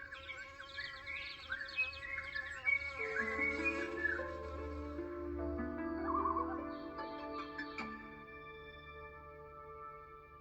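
Cheerful birdsong in a children's story soundscape, bright chirps and whistled trills weaving over a soft low hum, with a few sustained tonal notes joining partway through.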